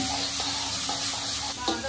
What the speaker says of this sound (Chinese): 那我就给你炒辣椒了， 来点姜蒜。